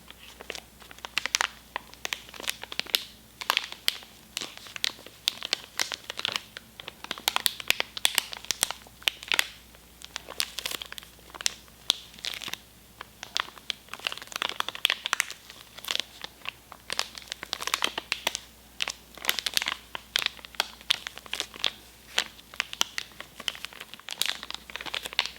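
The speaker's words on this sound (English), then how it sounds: "this pack of antiseptic wipes. And everyone loves a good antiseptic wipe at the moment, but I really like the crinkling ASMR as well." Crinkling and scrunching of a plastic pack of antiseptic wipes, a dense, close stream of crackling crinkles continuing steadily for a long stretch with no talking.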